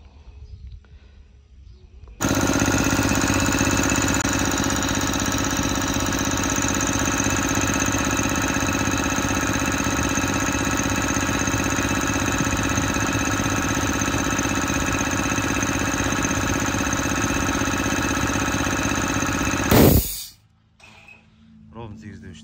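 Air compressor motor starting abruptly and running at a steady loud hum for about eighteen seconds until it shuts off at 8 bar, followed by a brief hiss and quiet with faint talk.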